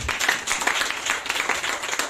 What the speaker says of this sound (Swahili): please mpigie makofi kwa kazi nzuri